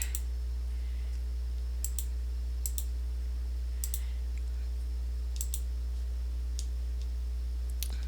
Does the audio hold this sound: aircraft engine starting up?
no